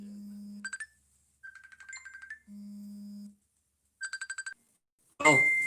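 A phone ringtone plays alone, a synthetic melodic pattern of sustained tones alternating with quick pulsed beeps repeated across several seconds, ending in a brief burst of noise.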